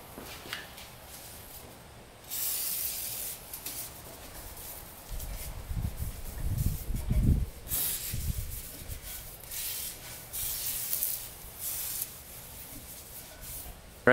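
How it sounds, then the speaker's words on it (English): A brand new aerosol can of WD-40 sprays in several bursts, coating rust-cleaned metal on a Honda 400ex ATV with a steady hiss at close range, separated by short pauses. "I like to coat it with some WD-40. Just picked up a brand new can of it."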